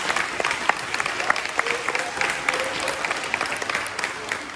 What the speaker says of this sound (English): let's give another round of applause to our string ensemble